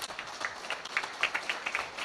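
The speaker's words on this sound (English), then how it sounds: "Please give them a big round of applause." A small audience claps at a chapter launch event in Bengaluru, a brief, faint scatter of hand claps with uneven rhythm and no talk over it.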